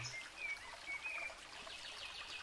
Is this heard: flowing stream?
yes